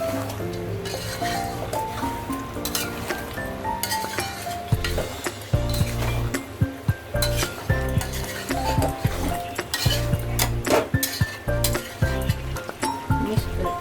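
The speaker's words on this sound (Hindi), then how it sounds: "ये डालने के बाद थोड़ा मिक्स करने का" Chicken with added potatoes stirred in a pan for Bengali chicken kosha, a steady sizzle of frying with scraping stirs and occasional clinks of a utensil against the pan, close and continuous.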